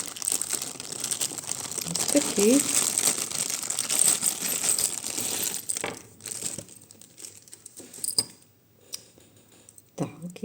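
Plastic crinkling and rustling as a small packet is handled and opened close by, with a few clicks; a person speaks briefly near the end.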